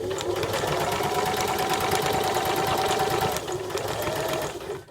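A domestic sewing machine back-tacks a seam while inserting a centred zip, running in a steady, close mechanical whirr for several seconds before stopping abruptly.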